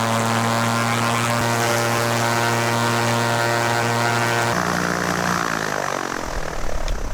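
Steady loud drone of a propeller aircraft engine running up after prop balancing, with a strong tonal hum that shifts pitch midway as the revs change, close and continuous with no voices.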